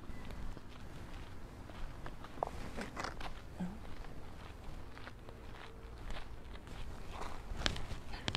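Footsteps of a group of people walking at night on a New Year's Eve temple walk, soft, steady and continuous shuffling at moderate distance with faint background activity.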